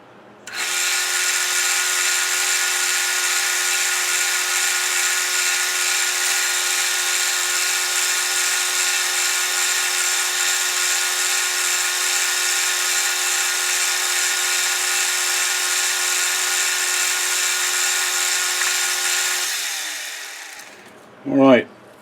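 A power tool chamfers the edge of a workpiece, a loud, steady high-pitched whirring motor running for about twenty seconds before winding down, then a brief voice at the end.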